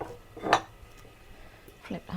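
A spoon stirs beef shin braised in red wine in a pot, giving one clear clank against the metal and a couple of softer knocks near the end, close by and quiet otherwise.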